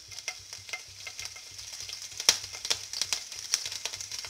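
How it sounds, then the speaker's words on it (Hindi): Chopped green chili and ginger paste frying in hot ghee over a low gas flame, a soft steady sizzle broken by scattered clicks and scrapes of stirring, close by and with no talk. "अब हम इसमें ये कटी हुई हरी मिर्ची और अदरक का पेस्ट ऐड करेंगे।"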